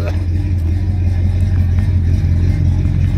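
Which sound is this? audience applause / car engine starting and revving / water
car engine starting and revving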